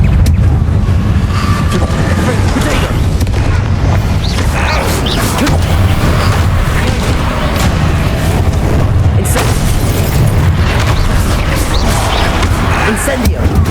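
Repeated Incendio fire spell blasts in Hogwarts Legacy during a fight, loud booming bursts and crashing impacts packed densely over a continuous roar of combat noise.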